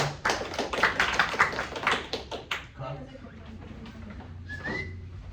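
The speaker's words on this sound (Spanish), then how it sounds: "Un aplauso." Applause breaks out in a courtroom during an oral criminal trial, a brisk burst of many close claps that stops halfway through and gives way to a quiet room with faint talk.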